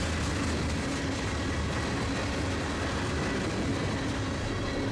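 A BNSF local freight of BN and BNSF hopper cars rolls past on the Iron Range, a steady, loud rumble of wheels and cars lasting throughout with no break.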